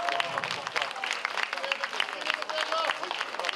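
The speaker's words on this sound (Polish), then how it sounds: "Brawa proponuję jeszcze większe, bo to był premierowy recital Artura" Applause from an audience at a Women's Day concert after a premiere recital in a culture centre, a dense steady patter of many hands that runs the whole way through with no break.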